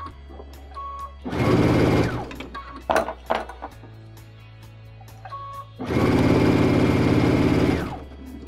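A sewing machine with a pearl and piping foot stitches piping in two loud close bursts of rapid rhythmic whirring. Quiet handling clicks and a low hum fill the gap between them.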